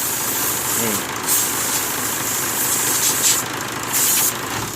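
A car engine idles steadily up close after a valve adjustment, a constant low rumble with a faint speaking voice in the background.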